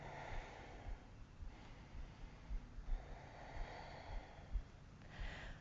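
Close, steady breathing during a yoga stretch for runners, with soft repeated inhales and exhales and nasal puffs over a low background rumble, no talking.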